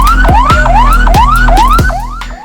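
A loud, close ambulance siren wails in a repeating rising sweep, about five cycles in quick succession, stuck in gridlocked traffic, fading slightly at the very end with no voices.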